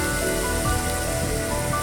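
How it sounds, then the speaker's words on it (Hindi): Heavy stormy rain with strong winds pours down over Bikaner city in Rajasthan, India, a dense, steady, loud hiss of rain striking surfaces that fills the whole stretch without talk. "बीकानेर शहर के अंदर जबरदस्त तूफानी बरसात के साथ के अंदर तेज हवाएं"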